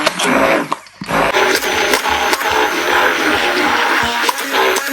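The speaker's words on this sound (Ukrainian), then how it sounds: "Всипаємо манку і все ретельно збиваємо." Curd cheese batter with semolina being whisked with an electric mixer, a loud continuous motor whir with a short dip near the start, then steady buzzing throughout.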